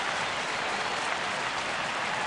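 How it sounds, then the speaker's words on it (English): A baseball stadium crowd at the Phillies vs. Cincinnati game roars in a steady, broad wash of cheering and clapping, loud and continuous with no clear voices standing out. "The crowd starts to erupt a little bit, trying to get him through this inning."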